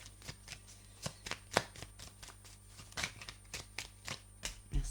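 Tarot cards being shuffled and drawn by hand, a rapid series of crisp riffling snaps and soft slaps close up, rhythmic bursts with brief pauses and no talk.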